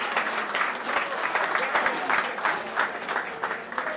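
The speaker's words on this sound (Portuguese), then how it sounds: "Uma salva de palmas para o Kenny, man." A crowd applauds for Kenny at a live show, with sustained, dense clapping at a close, fairly loud level and a few cheers mixed in across the whole stretch.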